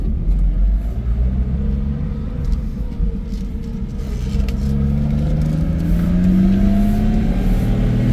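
A 1967 Ford Mustang Coupe pulling in second gear, a loud, close engine rumble rising steadily in pitch as it accelerates.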